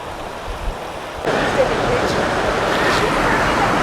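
Small waterfall on the river in Zion National Park, a steady broadband rush of falling water that jumps louder partway through as it comes nearer, with someone talking over it.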